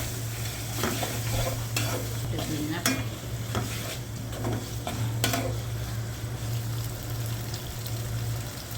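Chicken with garlic and ginger paste sizzles steadily in a pan while a spoon stirs it, with scattered metallic clicks and scrapes over a constant frying hiss and no voices.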